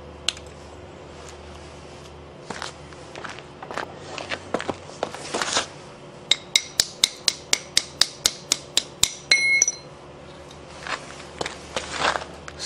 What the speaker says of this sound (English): wait till the weld cools before you start chipping off the slag, because the slag is super hot